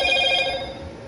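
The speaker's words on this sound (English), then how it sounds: "My phone goes off every now and then." A phone notification rings out in a short, bright electronic tone that holds briefly and then fades, close by and alone.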